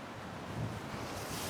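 Wind blows across a garden on a dull, windy day, a faint, steady rushing that swells slightly near the end, with no one speaking.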